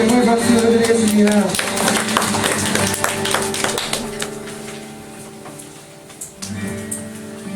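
A church congregation applauds during a Sunday worship service, with scattered claps blending into sustained worship music and voices at a steady, moderate level.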